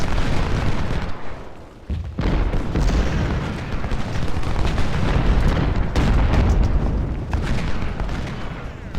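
Battle din from Ultimate General: Civil War at Bull Run: heavy artillery booms and crackling gunfire overlap continuously, loud and dense, with a brief lull near two seconds before the barrage resumes.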